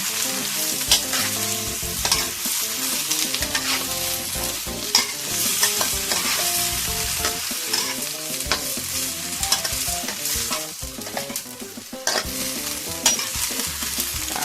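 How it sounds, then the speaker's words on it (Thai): Vegetables stir-fried in a pan with oil, producing loud, busy sizzling and constant rapid scraping and clattering of a utensil against the pan, steady for the whole stretch with no talk. "นี่เราก็จะใส่ผักไปเลยนะคะ แล้วจะใส่ไข่ที่หลัง"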